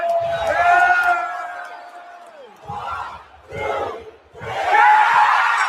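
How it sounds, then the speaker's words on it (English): A wrestling crowd at a WWE event roars and whoops in loud surges, with a long sustained yell at first, then waves of cheering that dip and swell again to a loud finish. "let's just take a look at this and look at the crowd reaction"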